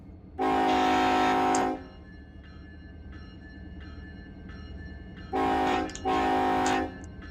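A freight locomotive horn in the train simulator Run8 sounds one long blast, then two shorter ones later, over a steady SD70 engine rumble with a faint repeating crossing-bell ding between.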